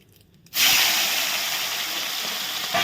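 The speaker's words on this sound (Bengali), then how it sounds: "এগুলো ভেজে নিচ্ছি" After a brief quiet moment, a loud sudden hiss of frying in hot oil bursts up and continues steadily, close by.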